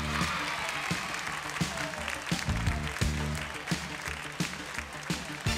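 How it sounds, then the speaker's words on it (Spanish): An audience claps for a circus gymnastics act, a dense crackle of applause mixed with loud, rhythmic music playing throughout. "le demos un fuerte aplauso a la princesa del circo"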